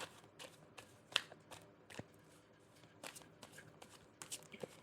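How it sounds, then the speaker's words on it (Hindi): A deck of cards being shuffled by hand, soft repeated riffling and flicking strokes close up, faint and unhurried, with no talking. "आप कीजिए क्वेश्चन अपने मन में जब तक मैं शफल कर रही हूँ।"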